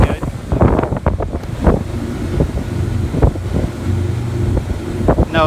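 Boat powered by twin Hino 135HP engines churning prop wash, a loud rough rush of water and engine rumble with heavy wind buffeting on the microphone throughout.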